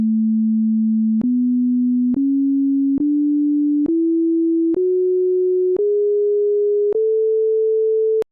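An ascending musical scale in an older non-equal-tempered tuning, played as pure sine tones: eight steady notes, each about a second long, stepping upward with faint clicks at each change, clean and alone.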